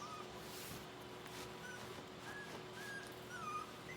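Four-week-old puppies from Bubbles and Zen's litter whimper faintly with thin, high squeaks and soft whines at scattered moments under a quiet room hum.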